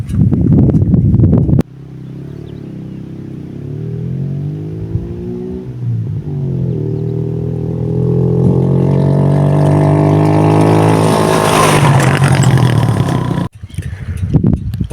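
A motorcycle engine runs steadily up close, its pitch rising and falling as it revs, framed by brief bursts of louder noise at the start and end.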